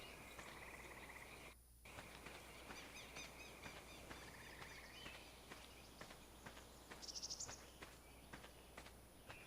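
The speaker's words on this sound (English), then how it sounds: "When you start hearing crickets in the middle of the day or frogs, then you've entered the swamp biome" Crickets chirp steadily in a video game swamp biome, with frogs and occasional footsteps mixed in, a faint continuous nighttime-like ambience with no one talking.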